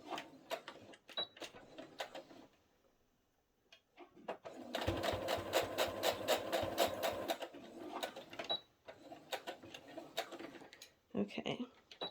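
A sewing machine stitches a partial placket onto a bodice with the needle in center position, running in one steady rhythmic burst of rapid stitching after some quiet handling noises, then stopping.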